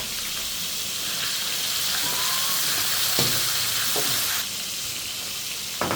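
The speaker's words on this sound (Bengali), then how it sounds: "দিয়ে দিব পেঁয়াজ বাটা" Onion paste tipped into hot oil for a home-cooked Bengali beef and fish curry, giving a steady sizzling hiss with brief stirring scrapes, close and even throughout without any talk.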